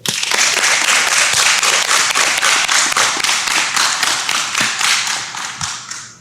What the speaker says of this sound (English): Please join me in a round of applause in thanking them